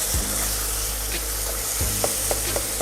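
Minced meat sizzles and fries in a very hot pan for a chilli bean stew, a steady broadband hiss with a few soft stirring knocks and clicks near the end, close and continuous with no talk.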